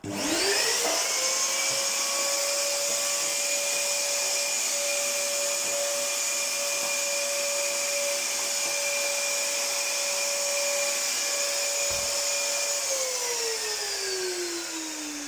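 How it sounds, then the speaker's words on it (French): A vacuum cleaner whines steadily at close range, its motor pitch rising at the start and sliding down near the end, with no voices. "on va repasser un petit coup d'aspirateur"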